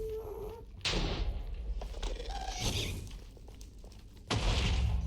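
A ghast attacking in the Minecraft Nether, with loud booming fireball blasts at the start and end and a fainter burst in between, set against an eerie ambient drone.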